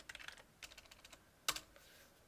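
Quiet clicking of computer keyboard keys as a web address is typed, in short uneven bursts of taps with one sharper, louder keystroke near the end.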